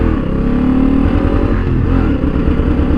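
Honda Africa Twin motorcycle revving hard in first gear with traction control at level 3, a loud, close, continuous engine roar with uneven, sputtering power throughout.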